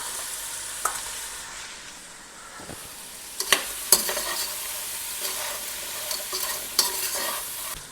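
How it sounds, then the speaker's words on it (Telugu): Chicken pieces stirred into crabs frying in a pan, a steady sizzle that swells midway while a spoon scrapes and clacks against the pan in irregular bursts, with no voices. "ఇప్పుడు చికెన్ వేసుకుని కలుపుకోవాలి"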